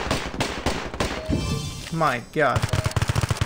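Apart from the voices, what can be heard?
gunfire in Standoff 2 video game gun game mode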